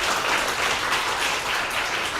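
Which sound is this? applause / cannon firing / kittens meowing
applause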